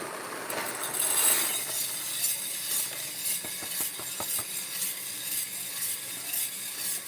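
A coffee roaster roasting beans runs with a steady whirring, hissing drone, and a quick string of dry cracks or clicks rises in the middle, fairly close and loud.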